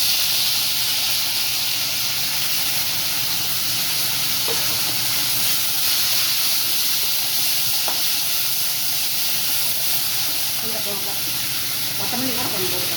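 Mint leaves frying in a pan for mint rice give off a loud, steady sizzle and hiss that runs unbroken throughout, with a few light clinks of a utensil near the end.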